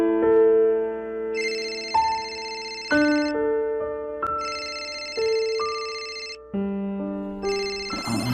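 A phone rings at night with an incoming call, sounding a repeating electronic melodic ringtone of distinct tone bursts, loud and close, with no talking over it.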